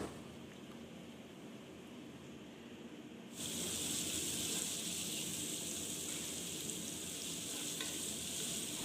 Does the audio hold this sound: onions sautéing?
yes